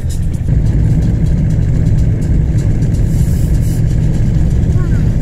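A car drives along the Anadyr estuary road toward the smelt festival in Anadyr, Chukotka, its engine a steady low rumble with road noise throughout, close and constant.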